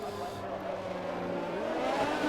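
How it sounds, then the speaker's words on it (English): An F1 car in the F1 2021 racing game, at the Monaco Grand Prix, revs hard with a continuous loud engine drone that climbs in pitch toward the end. "He's revving it quite hard."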